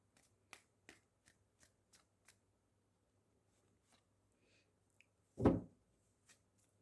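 Tarot cards being shuffled and handled close up in a quiet room: a string of soft, light card taps and flicks, one louder rushing riffle burst near the end, then a few more faint taps.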